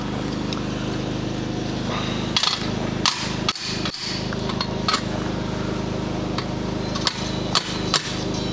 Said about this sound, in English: I'm not the only one that uses a level as a hammer